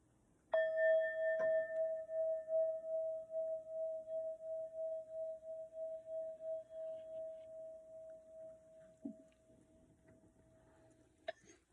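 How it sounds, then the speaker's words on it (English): A singing bowl is struck once, ringing out as a clear sustained metallic tone that slowly fades over about ten seconds in a quiet room, with a couple of faint knocks near the end. "strike the singing bowl real quick."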